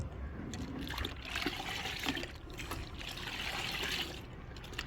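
A homemade Harpic-type toilet cleaning compound being stirred into liquid, a steady close sloshing and trickling swirl that keeps going without pause, with no talk over it.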